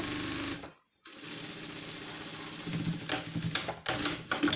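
Sewing machine stitching the fabric lining of a small owl-design bag, rapid rhythmic needle clatter in short runs, with a sudden brief stop near the start before stitching resumes.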